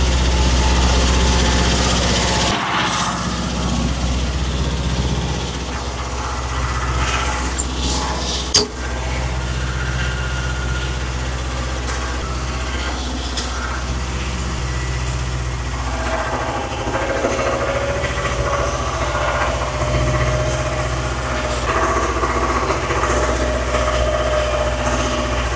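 A farm machine's engine runs steadily after a new starter has been fitted, giving a continuous low rumble with a brief knock partway through. It is close and loud with no talk.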